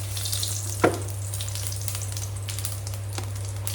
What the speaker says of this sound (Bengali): তেলটা গরম হয়ে গেছে, দিয়ে দেবো আমি গোটা জিরে